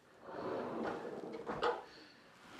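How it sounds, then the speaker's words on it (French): A small narrow kitchen spice drawer slides open or shut in a renovated apartment, a soft rolling swish with a light knock near the end, close and quiet. "Un petit tiroir, ce qu'on appelle en fait un épicier."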